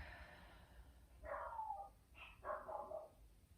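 Dogs indoors give two short bursts of barking and yelping, faint and somewhat distant, separated by a brief pause over quiet room noise.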